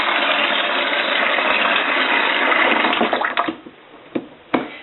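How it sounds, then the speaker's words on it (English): Hot water pours steadily into a plastic fermenting bucket with a loud, broad rushing splash, then tapers off into a few separate drips and clunks. "fill it with approximately half a gallon of hot water"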